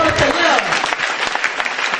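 Church congregation at a three-day retreat applauding, a dense, loud burst of clapping and crowd noise lasting a couple of seconds without a break.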